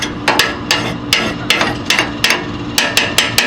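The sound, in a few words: scraper scraping burn pot of Harman pellet stove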